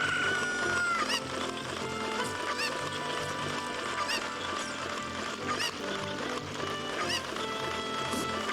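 Chickens clucking in Zelda Ocarina of Time, layered repeated squawks and clucks over busy game music, dense and continuous.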